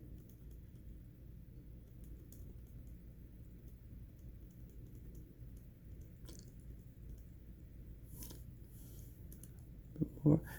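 A computer mouse gives a few soft, close clicks in a quiet room, ending with a sharper cluster of clicks right at the close.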